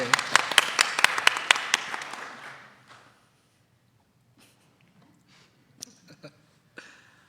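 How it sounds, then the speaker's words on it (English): At a university symposium, a small audience claps in a quick burst of distinct, sharp claps that fades out within a few seconds, followed by near silence with a few faint scattered sounds. "So clap it up for ISPO one more time."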